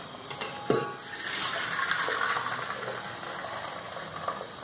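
Hot water drains off boiled peas, a soft rushing splash with a sharp clank near the start, then a steady faint trickling wash fading toward the end.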